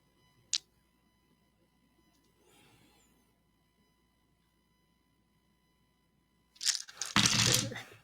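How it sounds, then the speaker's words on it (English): Tabletop dice tumble and clatter loudly near the end, a busy rattling burst after mostly quiet room tone with a single sharp click early on. "Still sounds like a lot of dice."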